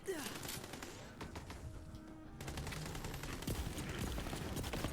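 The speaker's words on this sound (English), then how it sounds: "Stop shooting me with your machine gun things." Rapid bursts of machine gun fire in a video game, a dense stream of quick, fairly faint shots with a brief lull midway before the firing resumes, mixed with other game sounds.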